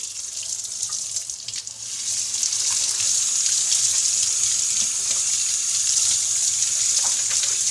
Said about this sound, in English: This is the last part where the water comes out of and then goes back into your tank. Usually it gets dirty like this. You just want to rinse it off